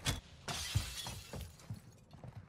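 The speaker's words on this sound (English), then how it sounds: "That's glass." Glass shatters in Call of Duty: Modern Warfare II during a Search and Destroy match: a sharp crash followed by several more breaking bursts and tinkling debris, fairly close and clear.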